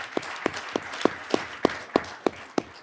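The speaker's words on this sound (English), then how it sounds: "So we can give Todd a big round of applause for coming back to us." At a board meeting, a single person claps in a slow, steady rhythm of about nine sharp, evenly spaced claps, fairly close and clear, with no voices over them.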